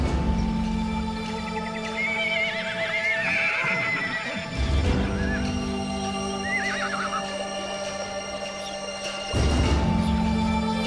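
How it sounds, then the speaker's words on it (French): Wild horses in the Danube Delta neigh and whinny at a distance over steady outdoor ambience, with a few high calls and low rumbling movement suggesting hooves, the sound staying moderate and continuous throughout. "Les courses courses entre les chevaux, les combats entre les mâles."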